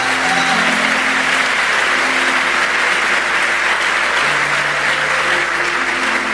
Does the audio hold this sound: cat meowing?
no